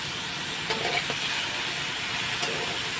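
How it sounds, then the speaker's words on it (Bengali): Pumpkin greens being stirred in a pan with fried spices, giving a steady, close sizzling hiss with a few soft scraping clicks, no voices. "চলো কুমড়ো শাকটা দিয়ে একটু নাড়াচাড়া করে নিই"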